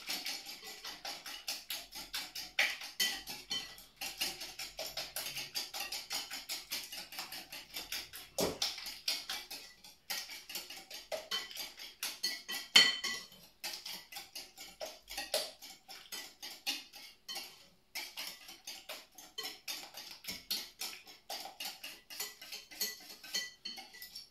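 Blueberry clafoutis batter being stirred in a bowl, giving a steady run of light clinks and taps from the utensil against the bowl, fairly quiet and continuous with no voices.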